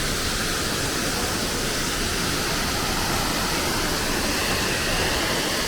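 A waterfall in Morocco roars in a constant dense rush of falling water, loud and close, filling the whole stretch without a break.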